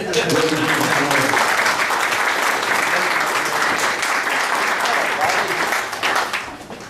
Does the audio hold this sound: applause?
yes